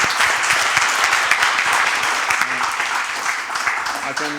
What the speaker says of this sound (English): A big applause for Marc, please.